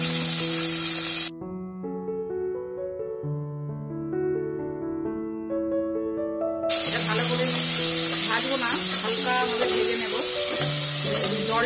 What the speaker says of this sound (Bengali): জলটা শুকিয়ে যাবে কিন্তু তেলটা বেরোবে, সেরকম ভাবে চিংড়ি মাছটা ভাজতে হবে